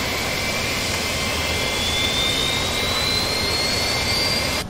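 An aircraft APU spins up in Microsoft Flight Simulator X, a constant loud jet-like roar with a thin whine that rises slowly in pitch throughout, with no talking over it.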